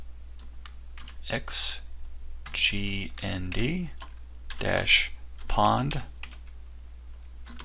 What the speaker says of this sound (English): Now go ahead and type in the following parameters